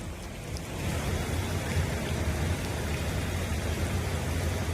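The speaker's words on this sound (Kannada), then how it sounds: "ದೆಹಲಿಯಲ್ಲೂ ಭಾರೀ ಮಳೆಯಾಗಿದೆ." Heavy rain pours down while floodwater flows near Vasudev Ghat in Delhi as the swollen Yamuna River overflows. A steady, loud, dense rushing of water fills the whole clip with no voices.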